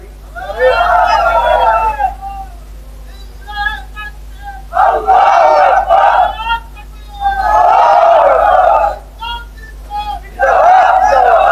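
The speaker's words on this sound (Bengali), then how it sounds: "ওমা, আরো জোরে দেন তো তাকবীর।" A large crowd at an Islamic religious gathering in Bangladesh loudly chants takbir, Allahu Akbar, in three or four surging, sustained roars with short pauses between them.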